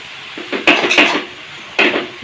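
Potato greens with salt and green chilies are stirred in a pot, heard as a few close clinks and scrapes of a utensil against the metal in short bursts, with no voices.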